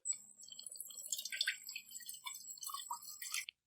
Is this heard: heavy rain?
no